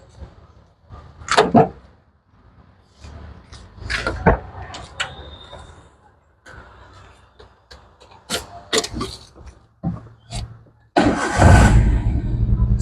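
A 2011 Maruti Alto engine starts on a single crank after a series of sharp clicks and thumps. The motor then catches and settles into a loud, steady run up close.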